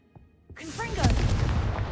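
Hogwarts Legacy's Confringo explosion spell: after a few soft thumps, a sharp whooshing cast with a rising sweep gives way to a loud, close blast and a dense crackling roar that holds through the end.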